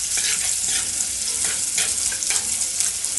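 Raw banana thoran for a Kerala-style dish frying in a pan as it browns, a continuous close crackling sizzle with soft scraping stirs, no voices.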